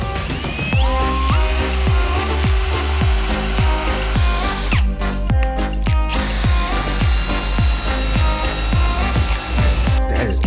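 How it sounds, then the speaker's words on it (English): A power drill with a Forstner bit bores into an Alaskan birch countertop with a loud, continuous whine that rises and falls as the bit bites, running the whole time without talk. "I'm going to try and use a Forstner bit."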